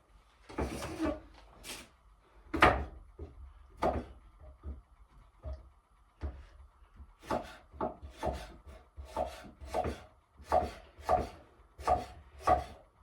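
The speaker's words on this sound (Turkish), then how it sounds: "Tabağımın içine biberlerimi de doğrayayım şunun içine diye." A knife chops peppers repeatedly on a cutting board, sharp close knocks in uneven bursts with short pauses, no talking.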